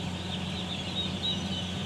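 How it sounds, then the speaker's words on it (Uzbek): A dense, steady chorus of high cheeping from some 1,100 young chicks on a poultry farm, continuous and unbroken, with a low hum underneath and no talking. "Bu yerda 1100 ta jo'ja."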